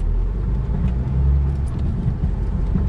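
A car drives out of Kecskemét, Hungary, its engine a steady mid-pitched hum with constant road rumble throughout, close and even with no pauses.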